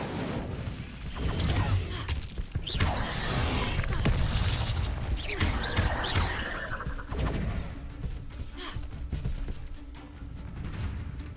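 An Incendio fire spell is cast in Hogwarts Legacy, producing booming fiery bursts and crashing blasts that swell and fade across the stretch, loud and close, with combat clatter between them.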